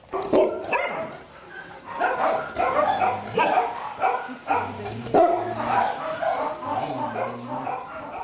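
Dogs barking repeatedly at an animal shelter, several voices yapping and whimpering in a continuous, busy chorus throughout.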